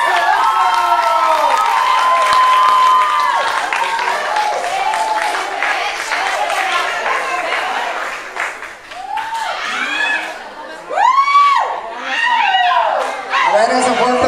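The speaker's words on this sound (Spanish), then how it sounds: "A ver, ese fuerte aplauso para el señor Elías y su hija Adriana, que se escucha." Guests at a quinceañera give loud applause for Elías Sandoval and his daughter Adriana, steady crowd clapping with some cheering while an announcer talks over it through a microphone.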